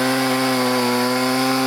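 A new chainsaw is run in outdoors, its engine holding a loud, steady, buzzing drone at close range for the whole moment, alone without talk.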